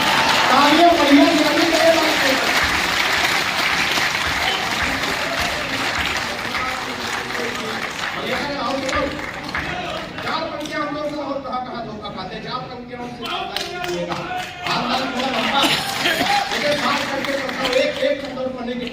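Clapping from a poetry recital audience at a kavi sammelan, strongest at the start then thinning and swelling again, mixed with crowd murmur and voices throughout.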